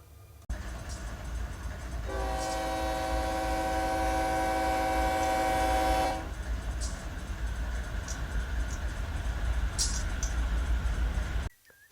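A freight train pulling ahead onto a side track in the Run8 Train Simulator game: a long steady horn blast over a continuous low rumble of the locomotive and rolling cars, with faint clanks, no speech.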